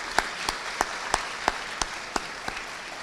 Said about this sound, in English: I'd actually like a round of applause for all the family and friends up here